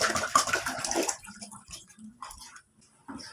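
Water poured into a container for making homemade ice cream, a loud splashing pour for about a second that then trails off into scattered faint drips and trickles.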